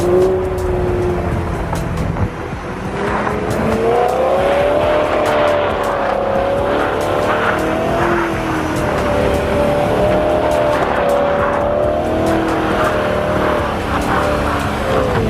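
A BMW M3 engine roars continuously at high revs with sustained tire squealing as the car does donuts, loud and close, the pitch wavering as the car spins.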